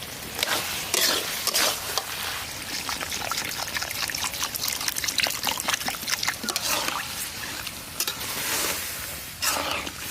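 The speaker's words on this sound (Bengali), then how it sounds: "এখন দিয়ে দেবো হালকা পরিমাণে জল।" Water poured into a pot of chicken curry in a village-style Bengali kitchen, a continuous splashing trickle with bursts of sizzle, close and fairly loud.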